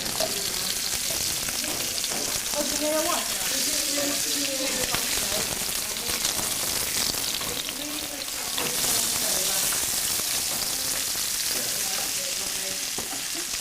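Steady sizzling of vegetables frying in a hot pan, stirred continually with scraping utensil sounds, close up.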